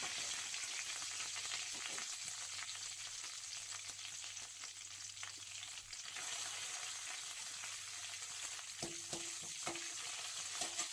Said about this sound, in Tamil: இது கூட கொஞ்சம் கருவேப்பிலை, 2 கட் பண்ண பச்சை மிளகாய், அது ரெண்டும் சேர்த்து நல்லா வதக்கிக்கோங்க